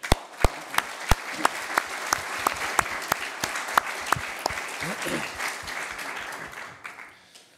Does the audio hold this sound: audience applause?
yes